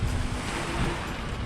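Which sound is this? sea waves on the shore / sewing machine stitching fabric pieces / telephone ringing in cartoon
sea waves on the shore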